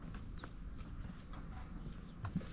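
Hooves of a horse clip-clop faintly at a walking pace on a ranch for rodeo cattle, a few soft scattered hits over low background rumble.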